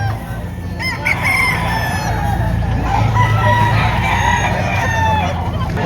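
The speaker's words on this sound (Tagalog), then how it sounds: "Anong klaseng manok po, sir, yan?" Roosters crowing at a busy chicken market in Padre Garcia, Batangas, several overlapping loud crows and clucks from nearby birds amid background crowd murmur.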